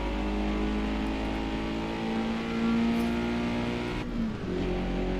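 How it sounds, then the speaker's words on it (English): In the video game Forza Motorsport, a car fitted with a race exhaust holds a loud, throaty engine drone, with a brief dip and shift in pitch near the end. "now it's got a way more throaty exhaust note because I've got the race exhaust on it"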